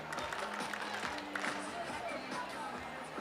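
Crowd murmur in a minor league baseball stadium during a Norfolk Tides game against the Lehigh Valley IronPigs, a steady, fairly quiet wash of distant chatter in the late innings with a voice talking over it.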